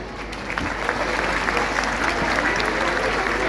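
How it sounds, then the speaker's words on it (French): A circus audience applauds steadily and fairly loudly, the dense clapping building slightly after the first half second and holding without a break. "Ils méritent tous vos applaudissements."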